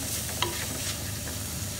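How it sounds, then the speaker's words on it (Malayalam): Chopped tomato stirs and sautés in a pan with onion for a sardine masala fry, a soft sizzle under light scraping strokes of a spoon, close and fairly quiet. "നമുക്ക് അതിലേക്ക് ഒരു തക്കാളി കൂടെ ആഡ് ചെയ്യാം."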